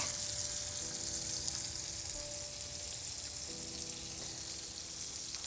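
Food fries in a pan with a constant, even sizzle and crackle, fairly faint, with no talking.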